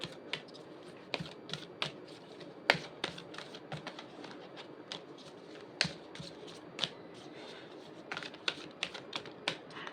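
Tarot cards being shuffled close up, a quick irregular series of crisp riffling snaps and taps over a quiet background, with no talk.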